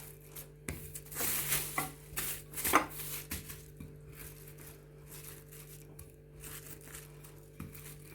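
Knife cutting through sablé cookie dough for Eid biscuits, a few crisp, scraping cuts around the one- to three-second mark with fainter cuts after, quiet and close.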